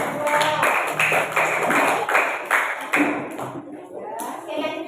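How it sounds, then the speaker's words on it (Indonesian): Classroom of students clapping together for a small group, a dense run of hand claps filling most of the clip and thinning toward the end, with voices mixed in. "tepuk tangan untuk kelompok dua."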